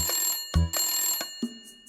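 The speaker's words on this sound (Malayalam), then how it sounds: "ഫോൺ എടുക്ക്" A telephone rings in a Malayalam Honey Bunny kids' cartoon, giving short, bright electronic ringtone bursts that repeat quickly, with nothing else heard.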